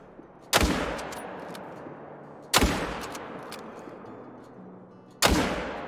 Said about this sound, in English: We're just gonna throw some shots in there and kill as many as we can